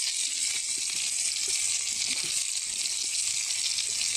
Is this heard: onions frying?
yes